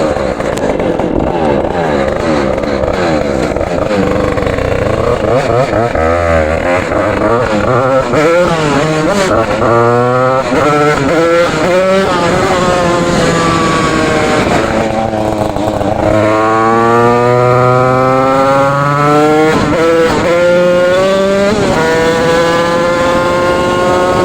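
DT 86 motorcycle two-stroke engine ridden hard, loud and buzzing as it revs up and down through repeated gear changes, with rising and falling pitch sweeps throughout.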